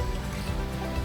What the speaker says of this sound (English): Love this little cascading waterfall.